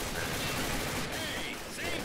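Uzi gunfire in a first-person shooter video game, rapid bursts of distant, fairly quiet shots over steady background game noise.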